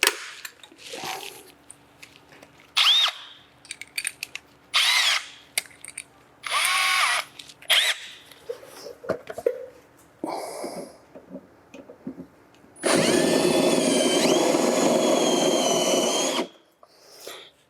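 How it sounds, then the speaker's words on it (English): A spot weld cutter drills into rusty car body metal during rust repair, heard as several short, loud whining bursts with pauses between, then one longer sustained grinding run near the end. "when you're cutting with a cutoff spot weld cutter, what you're going to want to look for is a dust burst"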